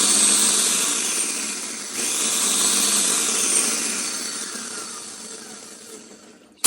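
A blender pulses dried egg whites into powder, a loud, steady whirring grind that dips briefly near two seconds, then gradually fades before a sharp knock at the end.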